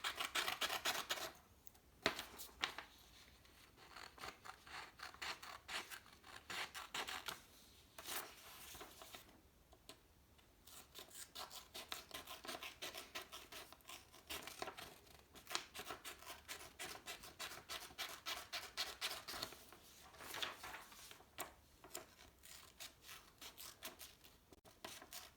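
Scissors snipping through paper while cutting out a caterpillar shape along drawn lines, a close, soft run of repeated crisp cuts and rustles with brief pauses between strokes.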